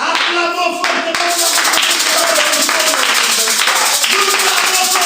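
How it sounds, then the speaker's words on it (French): A church congregation claps loudly and steadily through a French-language worship service, with dense hand claps over faint sustained musical tones. "Acclamons fortement."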